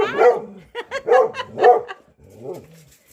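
Pet dogs bark in a close burst of several sharp barks and yips, with a softer whimpering bark trailing after a brief pause.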